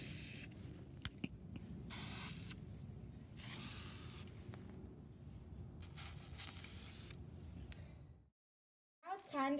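Aerosol spray paint hissing onto an Amazon Echo Dot smart speaker, in several close, loud bursts with short pauses between, ending in a brief silence and a faint rattle.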